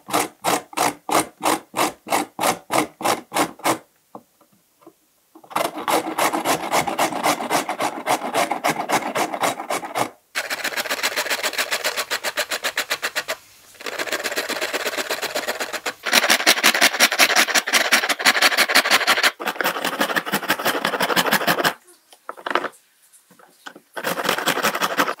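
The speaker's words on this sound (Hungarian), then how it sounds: "Na és akkor kezdjük is ezen a nagyobb lyukún fogjuk lereszelni," Carrots rubbed on the large holes of a coarse kitchen grater in quick, even rasping strokes, close by, in several bursts separated by short pauses.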